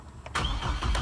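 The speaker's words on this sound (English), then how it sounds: "go ahead and start your engine." A car engine cranks and catches during an ABS light reset, a brief burst of starter noise followed by the motor settling into a rumbling idle, close and fairly loud.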